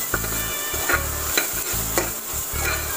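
Biryani masala stirs and fries in hot ghee, a steady close sizzle broken by repeated low scraping strokes of a spoon through the pan in a loose rhythm.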